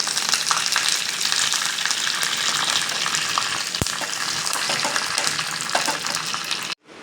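Mustard seeds, fenugreek, dried red chilies and curry leaves tempering in hot oil for mango pulissery, a steady dense crackling sizzle with a single sharp pop midway, ending abruptly.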